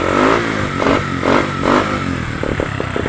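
A Bajaj CT 100 motorcycle engine converted to battery ignition revs up and down in a few quick surges, loud and close, with a rough clattering idle between blips.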